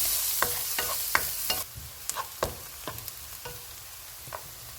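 One onion frying in hot oil on a medium flame, with a bright crackling sizzle broken by repeated sharp stirring and scraping strokes in the pan, loud and close with no talking.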